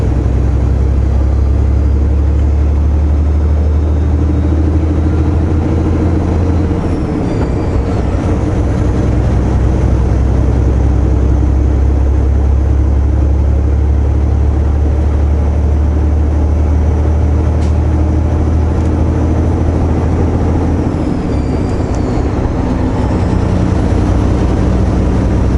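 A vehicle engine running steadily at low RPM, a deep continuous rumble that holds loud and even throughout, with a brief dip around the middle and near the end.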